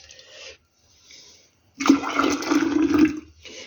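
Homemade tomato juice pours into two-litre glass jars in a home kitchen, a loud gushing liquid stream lasting over a second, with fainter trickles before and after.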